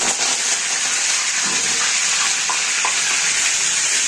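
Curry leaves spluttering in hot oil over a cumin and mustard tempering, a loud, dense crackling sizzle that holds steady from start to finish with faint scraping.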